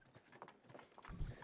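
Horse hooves from The Oregon Trail video game clip-clop in a quick, uneven run of soft knocks, fairly quiet, ending in a heavier, deeper thud near the close.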